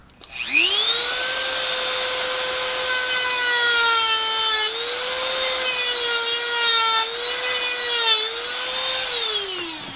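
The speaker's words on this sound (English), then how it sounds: "I'm going to do some trimming there so we can fit that piece in." A steady high-pitched whine from a rotary cutting tool trimming a piece of a Hasbro Black Series Kylo Ren helmet. It is loud and close, holding for about ten seconds with brief dips in pitch, and there is no talk.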